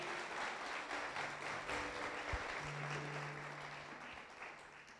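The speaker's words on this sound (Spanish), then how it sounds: "Den un fuerte aplauso al Señor." Sustained applause from a church congregation fills the space at a steady level, a dense wash of many hands clapping with a faint low tone running underneath.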